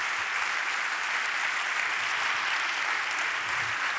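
Sustained audience applause at a French network gathering on solidarity travel, a dense, steady wash of many hands clapping throughout with no gaps, evenly loud from start to finish.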